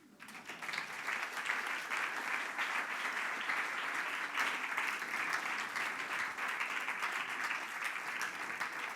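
Steady audience applause after a talk by a mathematician at a foundation lecture event, a continuous wash of many hands clapping at moderate distance, even in level from start to finish with no voices over it.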